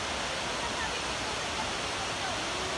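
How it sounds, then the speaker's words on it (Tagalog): Continuous broadband rush of a waterfall on a hike in Rupit, Catalonia, steady and enveloping at close range with no break. "This is the second falls."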